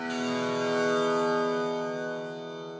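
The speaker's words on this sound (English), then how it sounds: "my innocent tambura, which used to sound like this" A tambura sample played dry with no effects sounds as one sustained drone, rich in harmonics, that swells slightly and then fades slowly over a long release, with no voices.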